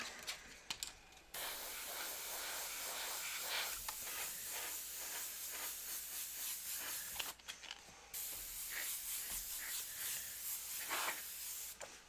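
An airbrush sprays paint for shading in steady hissing bursts, continuous for several seconds, with brief pauses where the hiss cuts out.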